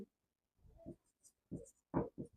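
Answers for a two-variable linear equation problem are written by hand, heard as a few short, close scratchy pen strokes in separate bursts with silence between them, and no speech.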